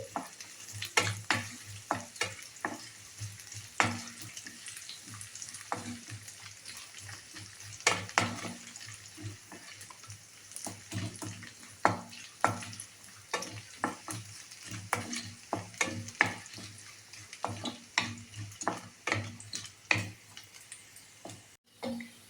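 Garlic sizzles steadily in hot oil as a spoon stirs it around the pan for capsicum rice, with frequent clicks and scrapes against the pan over a constant frying hiss.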